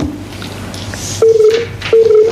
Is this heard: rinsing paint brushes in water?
no